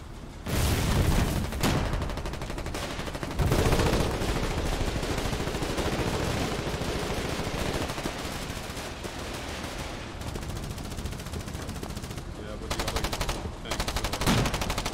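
Sniper rifle fire in the war game Foxhole, heard among loud, sustained battlefield gunfire with several sharp, heavy cracks standing out against constant rattling shots.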